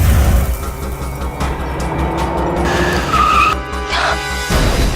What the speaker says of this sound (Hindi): संजय गाड़ी क्यों रोक दी?